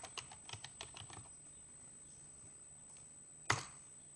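Keystrokes on a computer keyboard, a quick run of about a dozen light taps in the first second and a half, then quiet with one sharper tap near the end.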